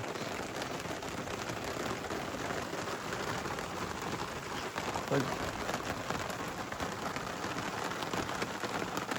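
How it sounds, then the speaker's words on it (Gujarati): Rain falls steadily, a constant soft hiss of drops on surfaces, unbroken for the whole stretch. "એટલામાં વરસાદ ચાલુ થયો છે"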